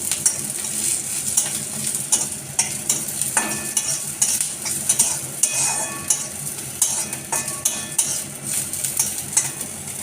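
A tempering of black cumin, garlic and green chili fries in hot oil with a bright, constant sizzle, punctuated by rhythmic metal-on-pan stirring scrapes close up.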